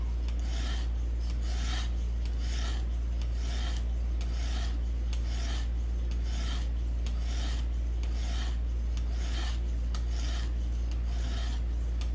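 A knife blade is drawn steadily across the stone of a Xarilk Gen 2 guided sharpener at a 23-degree angle, giving a close, repeated raspy scraping in regular strokes about every second over a constant low hum.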